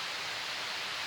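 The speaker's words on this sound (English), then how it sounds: "You can probably hear the creek, this little creek behind me running real loud." A small creek runs loud after heavy rain, giving a steady, broad rushing hiss of flowing water with no breaks and no voices.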